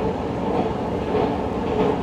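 Metro train in an underground station, a continuous loud rumble of wheels and carriages rolling along the track with faint clattering, no voices.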